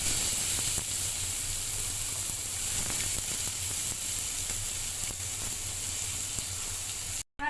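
Onion and green chili frying in oil in a pan alongside fried eggplant, giving a steady, close, continuous sizzle and hiss with no talking, cut off abruptly just before the end.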